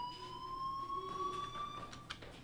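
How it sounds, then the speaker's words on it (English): A fire alarm rings inside the video game Life is Strange: a steady, piercing electronic tone that rises slightly in pitch and holds at a constant loudness for the whole moment, with no voices over it. "Hey, do you hear that fire alarm?"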